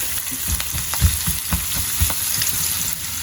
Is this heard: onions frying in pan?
yes